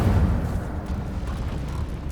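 Incendio fire spell cast in the video game Hogwarts Legacy, a loud whooshing, rumbling burst of flame that starts strongly and then roars on steadily for a couple of seconds.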